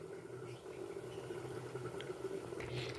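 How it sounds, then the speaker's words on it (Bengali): Milk and rice simmering together in a pot for peas pulao make a low, continuous bubbling with a soft liquid burble, close and quiet, steady throughout. "এইবার এটা ফুটতে দিতে হবে"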